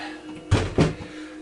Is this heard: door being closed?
yes